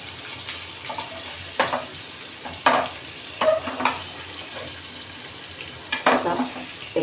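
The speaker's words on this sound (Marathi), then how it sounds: "आपली मच्छी मस्तपैकी फ्राय झालेली आहे." Surmai fish fries in a pan with a steady, low sizzle, broken by occasional louder crackles and spits as the pieces cook.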